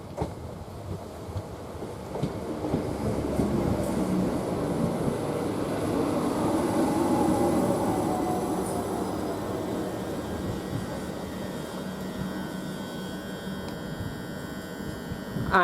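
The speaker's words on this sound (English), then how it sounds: "Now the 1503, so from Ely to London King's Cross is just now departing" Class 387 electric train departing Waterbeach station from Ely toward London King's Cross, a rising electric motor whine and hum that swells in the middle and then eases, with rail rumble beneath.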